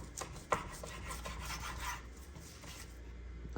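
Knife slicing through a beef chuck roll on a cutting board, a steady run of close, soft scraping and rasping strokes with one sharper knock near the start, no voices.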